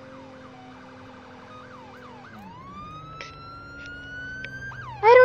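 A police car siren wailing in the Roblox game Emergency Response: Liberty County, cycling up and down and then shifting to a steady rising tone, with a loud burst of yelp at the very end and no talk.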